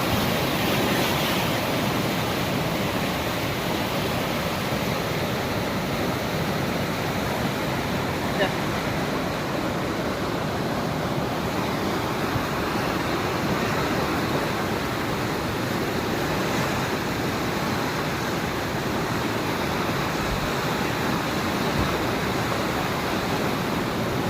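Loud, continuous rushing of a full river at Ropar, a dense steady roar that stays even for the whole stretch, with no pauses.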